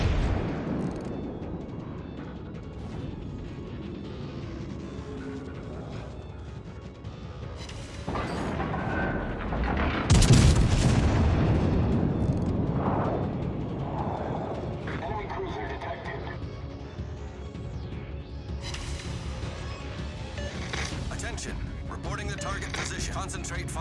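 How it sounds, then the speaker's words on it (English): Naval gunfire in World of Warships Legends, with Hood's heavy guns booming loud and deep through a dense mix of game effects, voices and rumbling battle noise. "Concentrate fire on the enemy warship."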